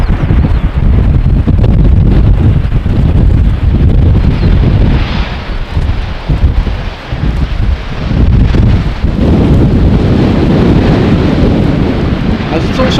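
Gusty wind buffets the microphone at Amsterdam Schiphol Airport with a southwesterly crosswind, making loud, surging rumbles that swell and ease in waves and briefly dip in the middle.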